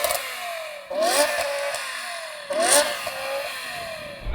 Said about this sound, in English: I'm going to rev this up first